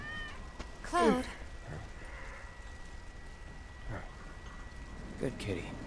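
A cat meows in the video game Final Fantasy VII Remake, one clear, close meow followed by fainter, softer mews later, over quiet ambient rain-like background.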